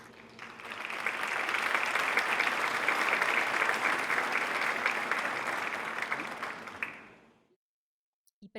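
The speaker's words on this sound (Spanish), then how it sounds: "Les pido un aplauso a todos para todos nuestros POPs." An awards-ceremony crowd applauds volunteers in Guatemala: clapping swells in, holds loud and dense for several seconds, then fades quickly into silence.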